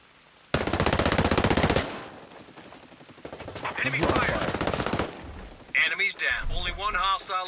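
Automatic gunfire in Ghost Recon Breakpoint PvP, with two long loud bursts of rapid shots separated by a short gap, followed by a voice speaking near the end.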